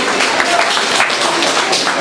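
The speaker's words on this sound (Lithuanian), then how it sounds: "aplodismentai" An audience at a small live music show applauds, a dense, fairly loud wash of clapping heard up close.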